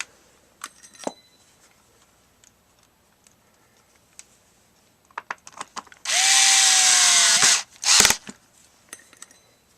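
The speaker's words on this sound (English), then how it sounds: "Let's screw her back together." A cordless drill spins up for about a second and a half with a steady loud whine, then gives one short burst. It is used to drive screws back into the housing of a Makita 12 volt FD05 two-speed 3/8-inch drill, with light ticks and handling clicks beforehand.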